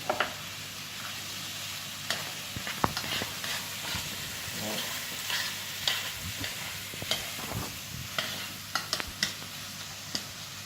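Peppers and onion sizzle in a pan with a constant low frying hiss, broken by frequent scrapes and clicks of stirring close by.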